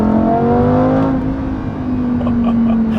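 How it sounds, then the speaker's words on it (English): A V10 sports car engine drones loudly with a steady, slightly falling exhaust note, close and sustained for a few seconds. "try to hear the exhaust notes in these cars"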